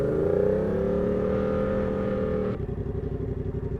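Yamaha MT07 with a turbo conversion pulling hard from a standstill toward 60 mph, a loud rising engine note that holds steady then cuts to a rough, pulsing idle-like burble near the end.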